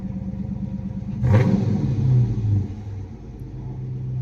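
A Dodge Charger R/T engine idles with a low rumble, then a throttle blip raises the revs briefly before settling back to idle.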